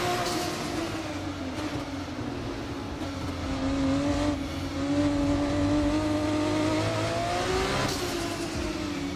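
A Formula 2 race car in a racing video game drives along with a continuous engine drone, its pitch rising and falling slightly as speed changes, loud and steady throughout.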